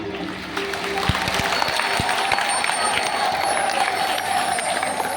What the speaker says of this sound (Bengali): তাদের জন্য জোরসে সুন্দর তালি